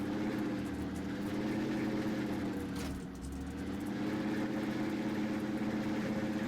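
A heavy tractor engine in Farming Simulator 19 idles steadily at close range, a low continuous rumble with a brief dip in the middle.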